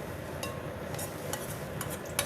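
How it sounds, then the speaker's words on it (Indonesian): An egg omelette with green chilies frying in a pan, with a steady soft sizzle broken by light scrapes and taps of a utensil against the pan, close and fairly quiet with no talking. "Nah, goreng dadar endok teman-teman."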